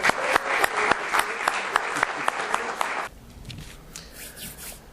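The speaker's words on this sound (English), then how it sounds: "So let's give him a round of applause." A lecture audience breaks into a round of applause, dense close clapping for about three seconds that cuts off abruptly, followed by quieter room rustle and shuffling.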